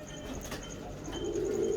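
A pet pigeon, a Batera-type bird numbered 11, coos steadily and close by, with a low rolling coo swelling toward the end and faint chirps in the background.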